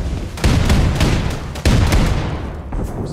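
Gunfire in Wolfenstein 2: The New Colossus erupts in a rapid string of loud, close shots with booming impacts, pausing briefly before another volley and a final few shots.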